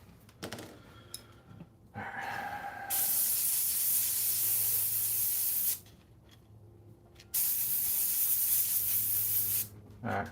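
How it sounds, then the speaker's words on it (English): Aerosol spray paint hissing onto a Sideshow Darkseid maquette during repainting, in two long sustained bursts with a short pause between and brief shorter puffs around them, close and steady. "I'm going to respray that and see how it looks."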